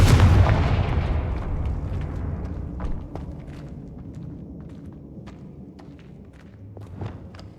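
Confringo blasting spells going off in Hogwarts Legacy: a loud, booming blast at the start that rolls into a decaying rumble, with a smaller thump near three seconds and scattered sharp crackles trailing after.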